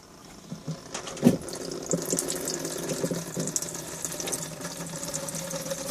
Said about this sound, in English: So let's just turn the water on